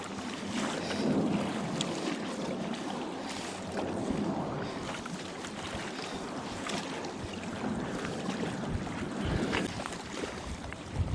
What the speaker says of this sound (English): we're getting ready to contend with these waves a little bit